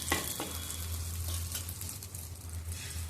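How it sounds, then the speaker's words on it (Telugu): Bread omelette egg mixture frying in butter on a pan: a continuous, close crackling sizzle at moderate volume, opened by a couple of quick scraping clicks. "ఇప్పుడు పెనం పెట్టుకొని కొద్దిగా బటర్ వేసుకొని ఈ మిశ్రమాన్ని పెనం మీద వేసేసుకుంటానండి"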